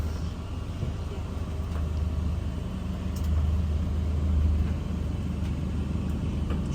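Steady low road rumble fills a car's cabin on the drive to the airport, a constant muffled hum that swells slightly midway, with no clear talking.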